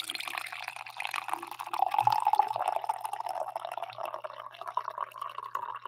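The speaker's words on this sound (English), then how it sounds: "I need a coffee pour here to get me going." Coffee being poured into a cup, a soft trickling stream of liquid with small drips that fills the space quietly on its own for several seconds.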